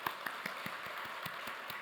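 A church congregation at an autumn early-morning revival service claps to encourage the children, a soft, fairly distant run of evenly spaced claps in a steady rhythm.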